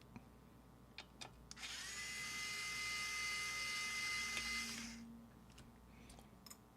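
A power drill drives magnetized screws in one sustained whine lasting about three seconds. It rises sharply, holds steady and then winds down, with a few isolated knocks and clicks before and after.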